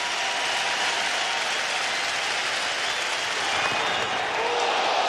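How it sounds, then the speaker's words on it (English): Baseball stadium crowd at the 2005 ALDS Game 1, Chicago White Sox against Boston Red Sox, rising to its feet with a broad, sustained wash of cheering and clapping on a 2-2 pitch, steady and loud throughout. "Crowd getting to its feet on the 2-2 pitch."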